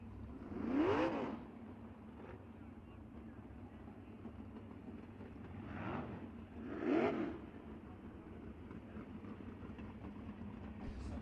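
Dirt track race car during qualifying at Bubba Raceway Park, engine revving in two distinct surges roughly six seconds apart, swelling and fading as it passes at moderate distance over a low background rumble.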